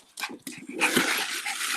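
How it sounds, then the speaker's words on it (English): Dog whimpering and whining close by, a few short high cries followed by a longer, more breathy stretch of whining and panting. "my dog needs to go out"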